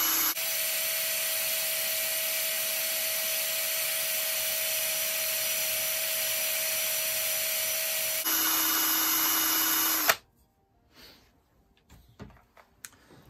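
Carving chisel being polished on a powered wheel, a steady whining hum with rubbing that runs for several seconds, shifts pitch briefly, then cuts off into quiet handling clatter.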